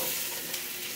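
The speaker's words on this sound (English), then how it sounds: "Can you hear that sizzle? That's how you know that the oil and the pan were preheated enough." Potatoes fry in very hot oil in a preheated cast iron skillet, giving a bright, continuous sizzle, close and steady with faint crackles, no voices over it.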